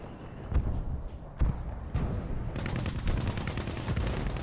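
Rapid bursts of gunfire from War Thunder combat with tanks and aircraft, repeated volleys and thuds, loud and close at first, then a dense, steady rattle of fire.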